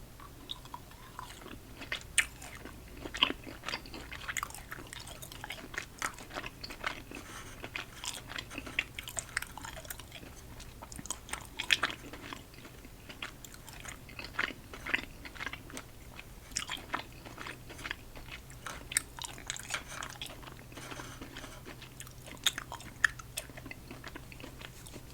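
Steady crunchy chewing and biting of watermelon punch candy during a candy taste test, a close, continuous run of small crisp mouth sounds with no talking.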